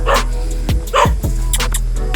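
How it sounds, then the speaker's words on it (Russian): Several dogs bark in short, sharp bursts, a few yips close together over a low steady hum, on a construction site in a city. "Куча собак, короче, нас прогоняют, по ходу дела."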